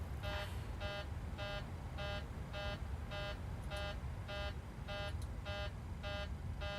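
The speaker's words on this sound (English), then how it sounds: "we're gonna be stuck with that alarm the whole time now" A repeating cockpit warning alarm in a PMDG 737-700 in Microsoft Flight Simulator beeps in an even, rapid rhythm of steady tonal pulses, loud and continuous throughout, with no talking over it.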